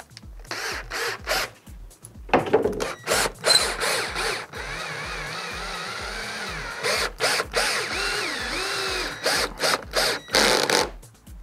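A power drill drives screws into scrap wood for an insect screen door in repeated bursts, whirring and ratcheting with short pauses between, one longer sustained run in the middle.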